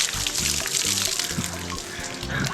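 Water in a public pool in Managua sloshes and splashes in a steady, close, trickling wash, along with a low rhythmic tonal hum in the background and no speech.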